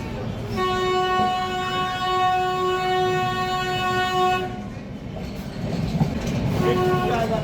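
Nilgiri mountain toy train running from Ooty to Coonoor sounds a long, loud, steady horn for about four seconds over rumbling rail noise, then the horn cuts off and wheels and carriage clatter carry on, with a brief horn return near the end.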